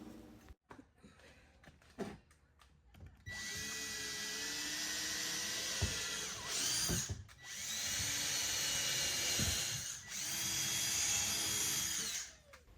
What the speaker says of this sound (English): I drill holes for the new hardware